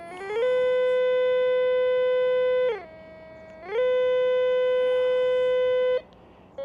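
A Drotek MTXR metal detector sounds an alarm: a loud, steady electronic tone that drops to a lower pitch for about a second, then returns to the high tone before stopping, close and alone.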